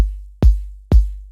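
A layered, textured kick drum sample for orchestral downtempo hits three times at a steady pace, each a deep booming thump with a soft noisy top layer and a long decaying tail.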